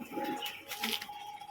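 A male pigeon from a home loft of Madras and red-marked birds is let go, and a short burst of wing flapping rises and fades, close and fairly soft, with a little cooing nearby.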